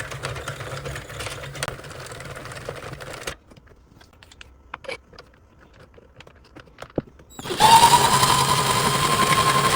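Sentro knitting machine being cranked through rows of yarn, a close run of rapid plastic clicking and ratcheting, then a stretch of sparse ticks and clacks, then a louder, steadier whirring crank.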